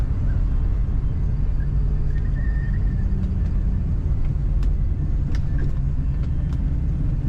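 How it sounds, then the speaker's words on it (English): A 1973 Ford Mustang Mach 1 drives along with a steady, loud low rumble from inside the car and faint higher rattles above it. "Let's go around the roundabout here and accelerate one more time."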